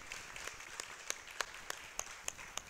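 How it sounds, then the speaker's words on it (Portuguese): Church congregation applauding during a service, a faint, thin patter of scattered claps with a few sharper hand claps standing out. "Vamos aplaudir o Senhor mais uma vez?"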